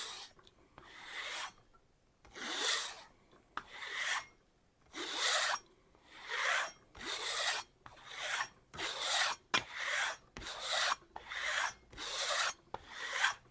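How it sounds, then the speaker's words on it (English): A knife edge rubbed on a ridged kangaroo-tail strop gives a steady back-and-forth rasping scrape, repeating in regular strokes about once a second, close up. "The ridges on the kangaroo tail is what's making all that noise"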